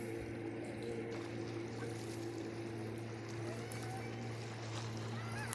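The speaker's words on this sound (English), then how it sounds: "So the waves go up to my feet." Small waves wash steadily against the shore of Hagg Lake, a soft continuous lapping heard at low volume alongside a faint steady hum.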